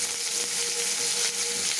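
Chopped onions dropped into hot oil with curry leaves, frying in a pan with a bright, continuous crackling sizzle, close and steady for the whole moment.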